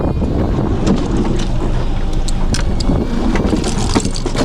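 A fishing boat under way offshore, heading out toward an island on a tuna trip off New Zealand, gives a steady loud rush of engine and water with wind buffeting the microphone throughout.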